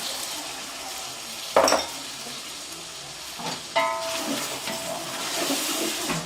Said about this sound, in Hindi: पाँच 6 मिनट फ्राई करेंगे चने